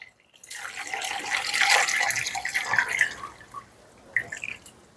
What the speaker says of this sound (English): I'm going to top this off with some more water